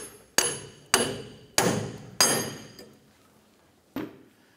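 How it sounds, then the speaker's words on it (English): A hammer strikes a pickle fork to separate the inner tie rod from the center link on a 1994-2004 Chevrolet S10, giving four sharp metallic blows in a steady rhythm, a pause, then one lighter hit, close and ringing. "Go ahead and use your pickle fork to separate the two."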